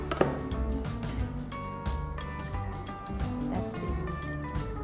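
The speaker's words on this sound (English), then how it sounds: "is good if you can chop it as finely as you can" A knife chopping cabbage and carrot finely on a board, a quick irregular run of close, crisp cuts and knocks continuing steadily throughout.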